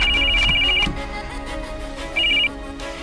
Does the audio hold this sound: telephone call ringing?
yes